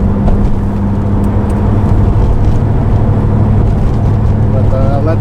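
Pontiac Trans Am with a turbocharged engine runs loud and close, a dense steady low rumble with strong harmonic drone and no pause.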